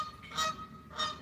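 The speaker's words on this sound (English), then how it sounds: "that's my geese" Geese honk twice in quick succession at a backyard in Florida, the calls moderately near and brief against a quiet outdoor background.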